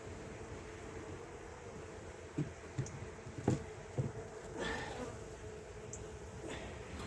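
A wasp in a cabin garden gives a thin, faint buzz over steady outdoor ambience, with a few soft thuds and knocks nearby and no clear voices.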